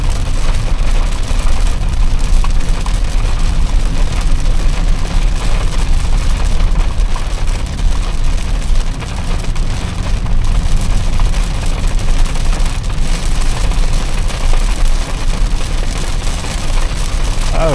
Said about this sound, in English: the rain is actually turning out to be serious